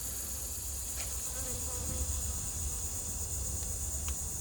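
A bee buzzes outdoors, a faint steady drone within a broad hissing background with a couple of brief clicks.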